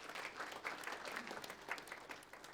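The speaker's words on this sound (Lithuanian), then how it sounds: "Paplokit, paplokit." Audience applause fills an awards ceremony for sports journalists, a steady wash of clapping from a crowd that holds even throughout, moderately distant and without a voice over it.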